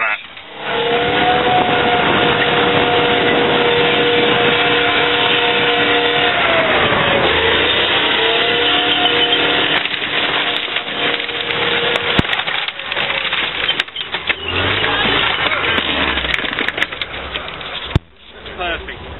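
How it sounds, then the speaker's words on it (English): A tank rolls over and crushes a car, with loud sustained crunching and splintering under a steady engine drone, followed by sharper cracks and groans of collapsing metal as the load eases. "Let's crush it."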